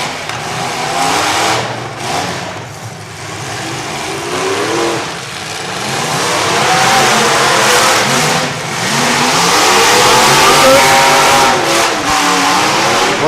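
Demolition derby car engines rev and roar loudly and continuously, the pitch surging and falling as the throttle is worked.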